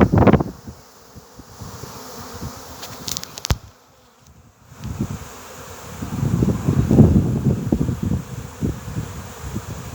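Honey bee swarm buzzing around a small bait hive: a dense, steady drone of many bees close by. It drops away briefly, then swells again louder, with scattered rustling and no talking.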